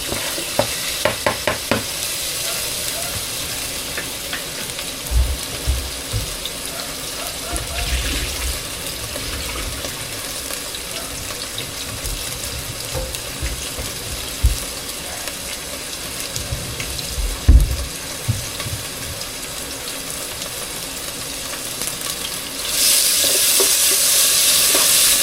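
Bagoong sautéing in a pan, with soft sizzling and occasional stirring and scraping sounds running steadily throughout, and the hiss briefly growing louder near the end.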